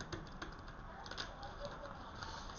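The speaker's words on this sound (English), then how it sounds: "let me just do a couple of shuffles from the Wisdom Tarot." A Wisdom Oracle card deck being shuffled, giving soft rapid riffling and pattering card flicks in quick irregular bursts, close and fairly quiet, with no voice over them.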